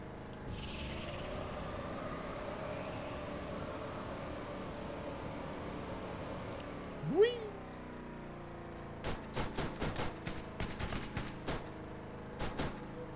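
Enemy gunfire in a shooter video game: a brisk series of sharp cracks and short bursts arrives in the second half, over steady ambient game noise, after a single swooping whoosh.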